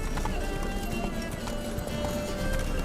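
Roach, Geralt's horse in The Witcher 3: Wild Hunt, gallops with steady, loud clip-clopping hoofbeats and a brief whinny, all over a constant rumble of game ambience.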